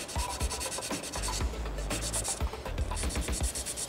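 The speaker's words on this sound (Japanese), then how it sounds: "ちょっと硬いヤスリを使って、 最初はこの瞬着の 持った瞬着の山のてっぺんだけを削るっていうイメージで" A hard sanding stick faced with waterproof sandpaper is rubbed over superglue filler on the plastic body of an Aoshima Lamborghini Aventador scale model. The close, steady, rhythmic scraping strokes continue without a break.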